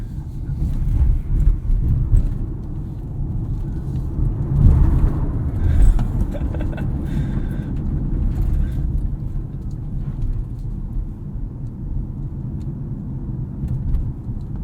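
Kia EV6 Wind AWD electric car accelerating, heard from inside the cabin as a steady low road and motor rumble that swells briefly before settling into a constant drone.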